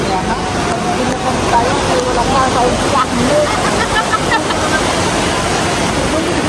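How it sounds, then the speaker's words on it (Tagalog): A river in Mindoro, swollen after Typhoon Ferdie, rushes with a strong, steady roar of churning water, loud and continuous throughout, while people talk over it. "Grabe, lakas ng tubig yun."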